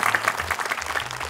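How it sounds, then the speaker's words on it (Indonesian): A group of children claps their hands together in a short burst of busy, uneven clapping, moderately loud and close, with a faint low hum underneath. "Boleh kamu tepuk tangan ayo."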